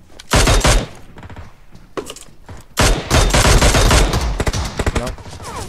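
Rapid bursts of gunfire in the shooter game PUBG, loud and close, with several dense volleys separated by short pauses.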